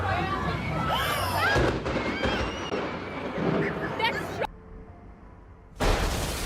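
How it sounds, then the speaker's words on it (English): Lightning strikes a tree and makes it explode, heard as a loud crackling burst of pops and booms that fades out. A short silence follows, then a second loud rush of noise. "A bolt of lightning hit the tree, causing it to explode like fireworks"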